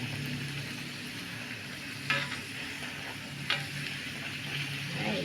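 Puris frying in hot oil for a vegetarian Friday dinner, a steady dense sizzle throughout with a couple of sharp brief pops, close and continuous.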